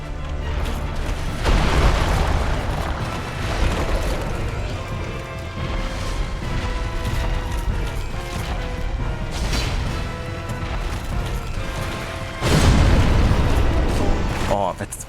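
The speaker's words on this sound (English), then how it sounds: "Fucking explosions." Explosions from Dark Souls Remastered's Painted World area, two heavy booming blasts near the start and end over continuous game noise, with a player talking throughout.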